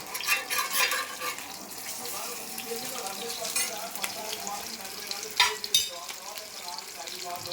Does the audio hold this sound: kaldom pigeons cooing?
no